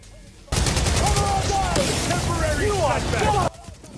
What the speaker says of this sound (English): Next room, you have to shoot these 3 workstation boxes.